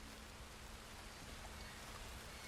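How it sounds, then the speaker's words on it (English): Rain falls steadily in the Red Dead Redemption 2 game world, a soft, even hiss of drops spread across the whole moment, faint and continuous with no voices. "And then it starts raining."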